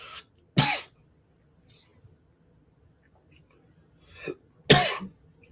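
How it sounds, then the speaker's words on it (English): Several sharp coughs in short bursts separated by quiet pauses, close to the microphone, with no talking. "I apologize with the coughing."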